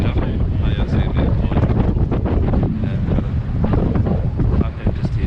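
Strong wind buffets the microphone on an open shoreline while prawn fishing in the shallows, a continuous loud roar with faint water sounds beneath and people talking through it.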